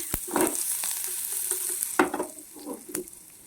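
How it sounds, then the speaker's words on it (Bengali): Black mustard seeds, curry leaves and chopped garlic sizzling in hot oil: a crackling hiss broken by several sharp pops and bursts of spattering, close and fairly quiet. "আর ফোড়না দিয়ে দেবো কিছুটা সর্ষে কালো সর্ষে আর দিয়ে দেবো সেই কারি পাতাগুলো আর দিয়ে দেবো একটু রসুন কুচি"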